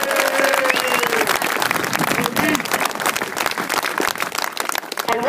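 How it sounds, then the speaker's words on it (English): Sustained, loud applause from a gathered crowd at a 30th anniversary event for miners, with dense continuous clapping and a few faint voices mixed in throughout. "Big round of applause,"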